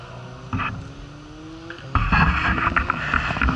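An Audi RS3 TCR race car circuits the track at Tunerfest 2024, its engine note rising and falling as it passes at moderate distance, growing louder and busier in the second half with wind buffeting.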